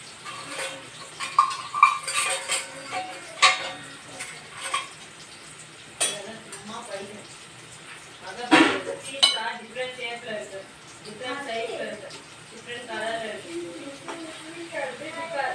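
Paneer frying in an oil-filled pan for a homemade paneer roll, turned with a utensil until golden, with frequent scraping and clinking of metal against the pan under an ongoing conversational voice.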